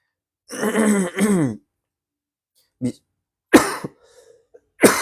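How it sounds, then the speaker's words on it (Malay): A person clears their throat and coughs several times up close, with two long harsh rasps followed by shorter separate coughs. "tiba-tiba batuk pula"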